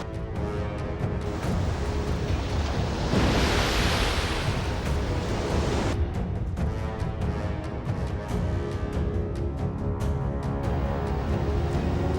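Ocean surf rolls against a frigid coastline in a loud, steady wash of roaring noise, swelling into a bigger crash partway through before settling back to a constant rumble.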